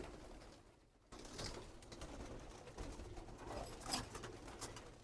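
Soft, low pigeon coos come and go against a quiet background, with a few faint rustles and brief higher chirps.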